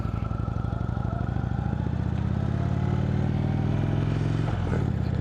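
Indian Roadmaster motorcycle with a big air-cooled V-twin engine, a loud, steady, throbbing rumble while riding, rising slightly in pitch near the end, no one talking.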